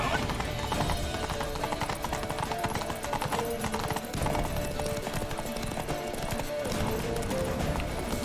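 Horse hooves clip-clop steadily through a dense, continuous game soundscape in The Witcher 3, with a faint whinny and layered music and effects filling the background.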